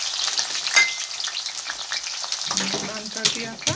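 Brinjal (aubergine) pieces fry in oil in a pan over a full flame, giving a steady, bright sizzle throughout with a few soft clinks of stirring toward the end.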